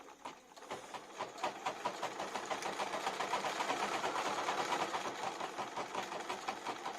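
A Bernina B590 sewing machine stitches embroidery with a rapid, even mechanical chatter that starts, builds to a steady close rhythm and runs on without talk.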